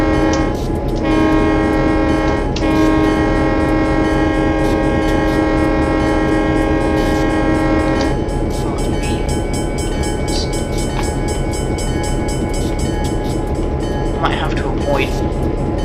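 A loud, sustained EMD F7 locomotive horn blares for several seconds with a short break, then the train rumbles and clatters on steadily once the horn stops.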